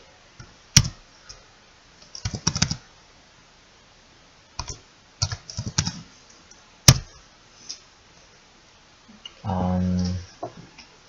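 A computer keyboard is typed on in short, scattered bursts of crisp clicks with pauses between them, close and fairly quiet, and a brief low buzzing hum comes near the end.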